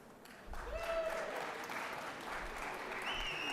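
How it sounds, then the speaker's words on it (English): A gallery crowd in the Georgia Senate chamber breaks into applause, a steady wash of clapping that rises after a brief moment and holds to the end. "let us applaud you for your triumphant season"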